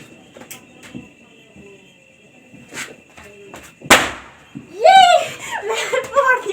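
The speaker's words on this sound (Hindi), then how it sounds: "मैंने फोड़ दिया, मैंने पटाखा फोड़ दिया।" A Diwali firecracker lit by hand goes off in one sharp, loud bang, followed by excited voices and laughter.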